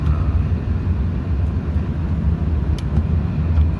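A 2016 Ford F-150 pickup on a test drive gives a steady low cabin rumble of engine and road noise with a few faint clicks, and no talking.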